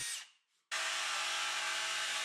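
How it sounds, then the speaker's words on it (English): A power drill bores holes into a plywood edge, starting after a short pause and then running as a loud, steady, close whine that holds without a break. "I mark these up onto the edge of a piece of plywood and then drill out the holes"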